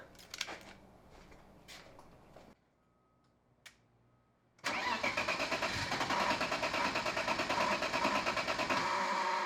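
A BMW E36 turbo engine cranking over with the fuel pump disconnected, a loud steady whirring churn that begins after a few quiet seconds with small clicks.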